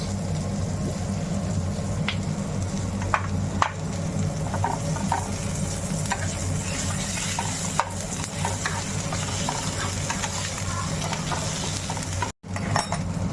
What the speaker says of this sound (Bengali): এবার আমি দিয়ে দেব আদা রসুনের পেস্ট